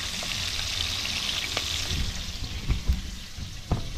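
Tomato slices and other food fry in a pan with a soft, steady sizzle, punctuated by a few louder crackles and pops near the end.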